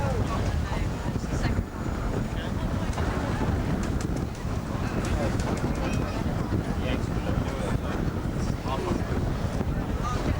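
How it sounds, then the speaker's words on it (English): Wind gusts buffet the microphone throughout a sailing team race at the first Team Racing World Championship final, a steady loud roar with rushing water and boat noise. "Fairly vicious gusts out there."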